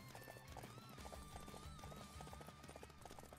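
A galloping horse in the game Samurai Warriors 5 pounds out continuous quick clip-clop hoofbeats, close and steady, layered over background music and battlefield ambience without talking.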